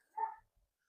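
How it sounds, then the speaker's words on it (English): A single short bark from a neighbour's dog next door, faint and distant, heard alone in a garden setting. "Noisy dogs next door, but that's alright."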